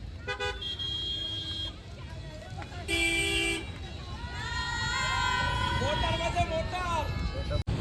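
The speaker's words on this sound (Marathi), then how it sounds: "इथं तर ट्रॅफिकच ट्रॅफिक आहे सगळी जाम ट्रॅफिक आहे" Heavy traffic is jammed on a road, with several car horns honking in short and sustained toots. A crowd chatters around it and a voice talks nearby.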